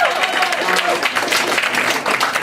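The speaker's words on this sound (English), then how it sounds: "I feel like we should give you a round of applause for being here." Audience applause at a whisky tasting event, steady dense clapping filling the room with a few voices mixed in.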